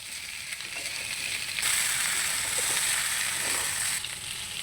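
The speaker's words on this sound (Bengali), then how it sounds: "পেঁয়াজের সাথে আলু কুমড়োটাও একটু আমরা ভাজা ভাজা করে নেব" Potato and pumpkin pieces fry with onion in a pan, a close continuous sizzle that swells louder for a couple of seconds as the vegetables are stirred, then settles back.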